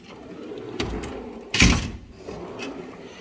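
Drawer of a Mac tool toolbox pulled open or shut, a sharp rattling clunk of tools shifting inside, preceded by a few lighter knocks, close by with no talking.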